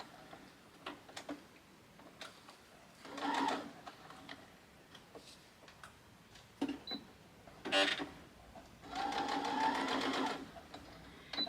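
Short bursts from a sewing machine stitching back and forth across tote bag handles, separated by pauses with quiet ticking and handling noises, heard close and faint.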